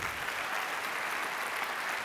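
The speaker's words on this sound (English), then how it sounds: "can we get a test round of applause?" A live forum audience gives a brief warm-up round of applause before the show, steady, even clapping throughout a short burst.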